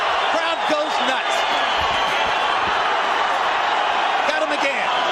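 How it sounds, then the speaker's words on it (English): Boxing match crowd in Vitali Klitschko versus Kirk Johnson, a dense, loud, continuous roar of cheering spectators filling the arena, with a commentator's voice briefly over it. "Crowd goes nuts."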